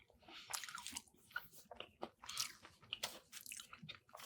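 Someone bites into and chews a Subway cookie up close, with soft, irregular crunches and squishy mouth sounds at low volume and no talking.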